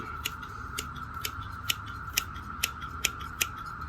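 Garden shears snip back a leggy perennial, a series of about eight crisp, evenly spaced cuts close by over a steady background hum.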